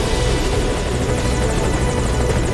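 Loud, continuous rotor thump and turbine whine from a Metal Gear Solid V chopper waiting at a landing zone, heard up close and unbroken, with nobody speaking.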